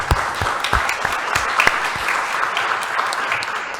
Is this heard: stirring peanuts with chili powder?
no